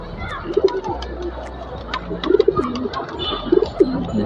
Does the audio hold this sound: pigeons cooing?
yes